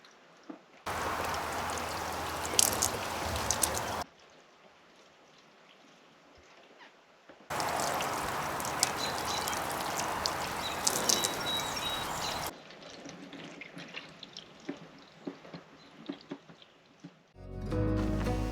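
Water spraying onto an RV travel trailer window during a leak test, coming in bursts of steady hiss and patter that stop and start with quiet gaps between them, with no voices.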